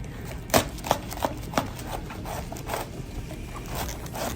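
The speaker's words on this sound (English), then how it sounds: "Cut up the cabbage first." A knife chops cabbage for vegetable soy sauce chow mein, with a few sharp cuts early on that fade into softer, irregular cutting over a steady background hum.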